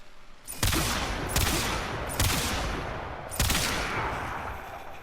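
A Bombard gun at level 80 in the video game Warframe fires four heavy, booming shots a second or so apart, each with a long rumbling tail and no speech between them.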